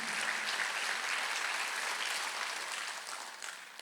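Congregation at a Sunday church service applauding, a steady wash of many hands clapping together that holds evenly for several seconds before thinning slightly at the end.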